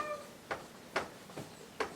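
A cat meows three times in short, evenly spaced calls, moderately close with a quiet background between them.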